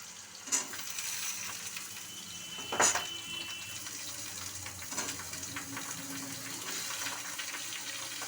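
Vegetables for shukto, carrot, green papaya and green banana, tipped into hot oil in a pan, giving a steady close sizzle with two louder splashy bursts as they go in.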